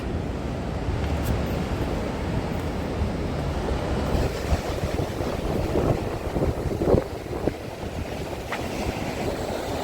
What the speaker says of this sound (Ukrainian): А море штормить.